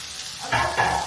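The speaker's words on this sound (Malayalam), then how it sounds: "അതിലോട്ട് കട്ട് ചെയ്ത് വെച്ചിരിക്കുന്ന onions, coriander leaves, green chilli 3 ഒഴിച്ചിട്ട് കൊടുക്കാം" Chopped onions, coriander leaves and green chilli tossed into hot coconut oil burst into a loud, close sizzle about halfway through, with a brief stirring scrape and a second surge of crackle soon after.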